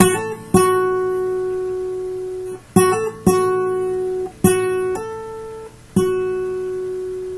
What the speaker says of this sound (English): after you hammer on, you want to play it barred.